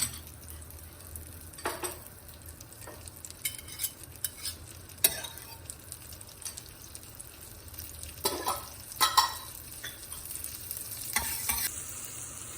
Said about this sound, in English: I'm going to start with butter. It's 1 tablespoon of butter to make the masala.